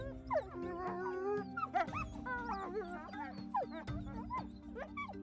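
Wolves whimper, yip and howl in a Siberian pack, several overlapping wavering cries rising and falling continuously, close and fairly loud with no talk.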